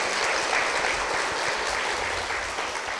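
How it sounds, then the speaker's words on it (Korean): Steady applause from a church audience welcoming a deaconess onto the stage during a Korean church program, dense continuous clapping lasting the whole few seconds at even loudness. "박수 부탁드립니다."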